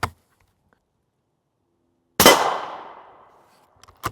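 Loud sharp impact of an M80 ball round striking a Highcom AR1000 steel Level III+ armor plate, a single crack with a long ringing metallic decay, then a second quick hit near the end; no voices.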